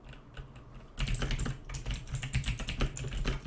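Typing on a computer keyboard while writing Java code, a quiet run of quick, uneven key clicks that grows busier and denser after the first second, with no talking.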